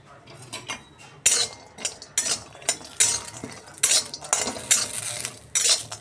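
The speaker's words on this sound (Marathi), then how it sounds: "सगळ्यात आधी मी खोबरं घातलेलं आहे भाजण्यासाठी." A utensil repeatedly scrapes and clinks against a pan as dry coconut is roasted and stirred for misal masala, making close, rhythmic metallic strokes with short gaps between them.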